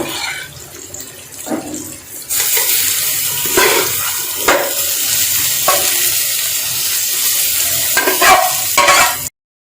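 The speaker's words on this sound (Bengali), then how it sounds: "এই অবস্থাতেই শাকটাও এটার সাথেই ভেজে নেব" Bottle gourd greens and bean seeds fry in oil in a pan. A hiss swells into loud continuous sizzling at close range, punctuated by sharp scrapes and knocks of stirring, then cuts off abruptly.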